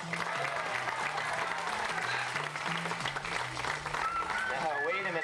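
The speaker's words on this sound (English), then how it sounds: "Let's make some noise and cheer Harold on" Cheering and applause rise from a live audience at a bird show at Busch Gardens, where a trained bird plays basketball, with a steady crowd wash lasting throughout and a low voice or music line running underneath.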